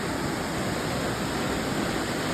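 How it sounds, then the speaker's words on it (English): Two rainforest waterfalls in Dominica pour in a steady, dense roar of rushing water, loud and continuous with no voices. "Waterfalls, there's two of them."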